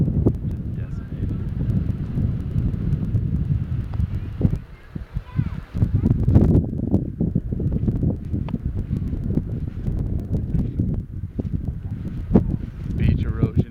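Strong, persistent wind after Hurricane Irene on an eroded beach roars across the microphone, loud and gusty, with someone talking over it at times.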